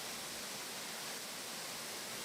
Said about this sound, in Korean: 세차게 쏟아지면서 산에서 흘러내리는 빗물은 어느새 거대한 폭포를 만들어냅니다.